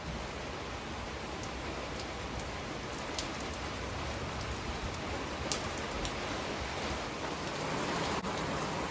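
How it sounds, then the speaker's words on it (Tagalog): Steady rain falling outside in Parañaque during a typhoon, a constant even hiss with scattered sharper drops, moderately quiet and unbroken, with no voices. "kanina uminit na pero bumalik uli yung ulan"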